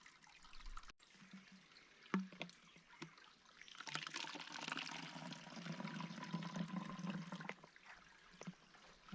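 Water trickles and pours through a water filter in a steady soft stream, with a few faint clicks of handling around it, quiet and close.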